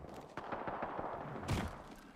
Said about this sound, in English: Old SMG here